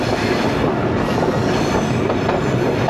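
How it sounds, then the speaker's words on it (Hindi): Ravi Express passenger train, a short rake of about six coaches, running on rails through open country, a loud steady rumble with wheel noise and faint squeal throughout, heard close with no talking. "जिनके दरमियान पहुंच जाएगी अभी हमारी रेलगाड़ी।"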